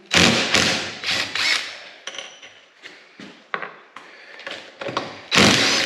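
Bolts are being worked loose from a Can-Am X3 smart-lock differential during a teardown, with loud, close metallic knocks, ratcheting clatter and tool thuds in an irregular run of bursts.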